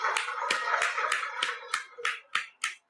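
An audience at a gathering claps to welcome Brother Tom, sounding as a series of distinct, fairly steady claps that come at an even rhythm and grow more spaced toward the end.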